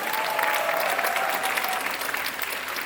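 Loud, dense applause from an audience cheering a comedy troupe after a humorous play, a continuous roar of many hands clapping that tapers slightly toward the end.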